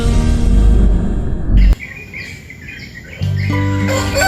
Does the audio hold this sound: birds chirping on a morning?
yes